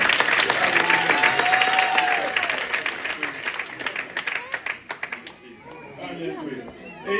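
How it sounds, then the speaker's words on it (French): A Mother's Day church gathering breaks into applause, crowd clapping strong at first, then thinning into scattered claps while children's voices and chatter carry underneath. "On va applaudir pour lui."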